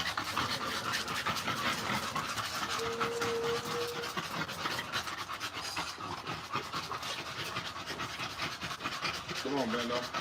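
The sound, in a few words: dog panting hard after playing with ball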